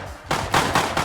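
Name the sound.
gunshot headshot in the video game Rust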